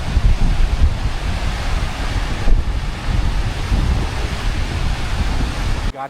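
Waves and a cool breeze at the Al Khafji Corniche beach in Saudi Arabia: loud, continuous surf wash mixed with gusty wind buffeting the microphone, no voices.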